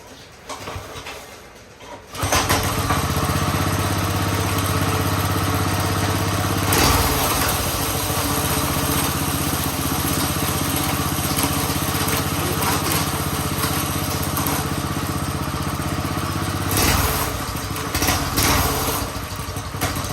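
A stretched Doodle Bug minibike's small engine catches after a couple of seconds and then runs steadily and loudly, with a raspy buzz, brief revs and slight dips while idling close by.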